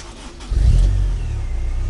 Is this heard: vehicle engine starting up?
yes